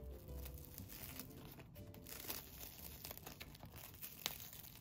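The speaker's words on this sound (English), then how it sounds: "Let's tear it apart." Bread toasted in an Aladdin toaster is pulled apart by hand, giving faint, close crackling and tearing rustles with a few sharper crunchy snaps.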